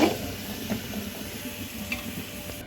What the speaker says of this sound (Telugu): ముందుగా అయితే ఆవాలు అయితే వేస్తున్నాను ఆవాలు అయితే ఫ్రై అవ్వాలి కదా